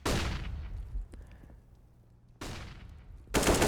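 Gunfire in Counter-Strike: Global Offensive during a competitive match: a loud burst of shots opens, a quieter stretch with faint game sounds follows, and then two more sharp volleys arrive near the end.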